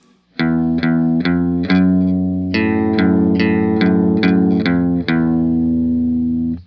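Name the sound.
electric guitar riff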